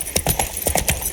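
Roach, Geralt's horse in The Witcher 3: Blood and Wine, clip-clops along at a steady trot, each hoof strike crisp and close in a quick rhythmic pattern with no talking.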